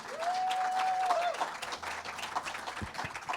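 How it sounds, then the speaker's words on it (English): Audience applause welcoming a musician to the stage at a church service, a steady wash of clapping from a crowd throughout, with a brief tonal whistle-like sound early on. "Please, a warm round of applause."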